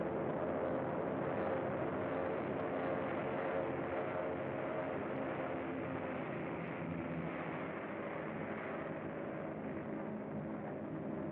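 An airplane engine in a 1932 film drones as a steady, muffled, low-fidelity rumble with a constant hum, running continuously without pause and no voices over it.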